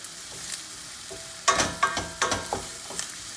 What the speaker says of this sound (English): And then you let the zucchini cook just a little bit, not too much